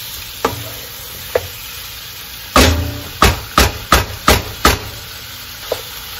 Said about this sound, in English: it says to stir fry this on high heat, which is what we're doing.